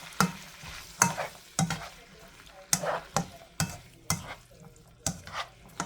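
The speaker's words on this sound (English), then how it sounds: "And now I'm going to mix this all together." Ground beef and pinto beans stirred together in a hot frying pan: repeated scraping stirs of a utensil against the pan every half second or so, close, over a light continuous sizzle, no talking.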